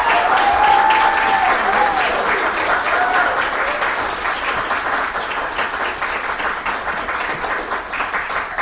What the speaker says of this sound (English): let's give a round of applause for Saada Aqib.